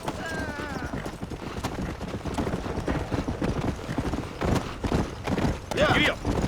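Horse hooves clip-clop at a gallop in Red Dead Redemption, a steady rapid beat under game dialogue and ambient sound, with people talking throughout.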